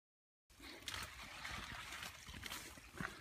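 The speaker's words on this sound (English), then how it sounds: "A little bit of water running." Faint water trickles and runs steadily through a rocky chasm, a soft continuous splash that begins after a moment of silence and carries a few small drips and splatters.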